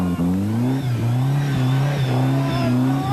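A Cosworth rally car on a winter rally revs hard as both front and rear wheels spin, a loud, steady, close engine drone rising and dipping in pitch throughout.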